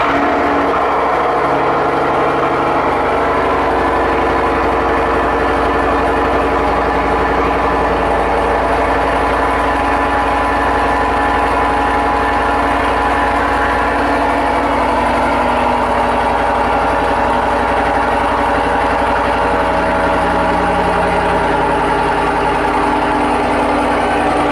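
Cadillac Escalade fitted with a Corsa Sport exhaust runs at a steady, loud idle, a continuous deep drone heard alone and unchanging throughout.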